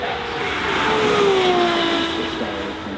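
A high-revving Gordon Murray Automotive track-only hypercar with free exhaust howls steadily, its pitch climbing then easing as it accelerates past, loud and continuous with a raw, unmuffled edge.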